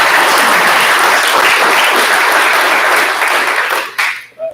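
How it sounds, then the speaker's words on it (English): Loud, dense applause from an audience at a museum press conference for a T. rex exhibit, continuous and close before fading out in the last second. "You should give yourselves a round of applause"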